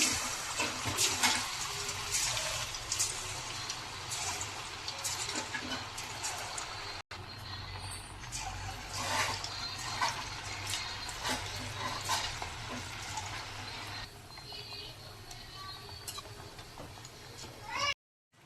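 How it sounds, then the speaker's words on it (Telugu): Potato pieces deep fry in hot oil for a crispy aloo fry, giving a continuous close bubbling hiss with small crackles and pops, and occasional clinks of a utensil. "ఇప్పుడు మనం వీటిని ఫ్రై చేసుకుందాం ఒక్కొక్కటిగా"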